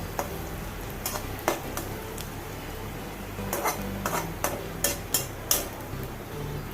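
Oats upma with cashews stirred in a pan over a low sizzle, a series of sharp scraping clicks from the spoon that grow more frequent toward the end, close up with no voices.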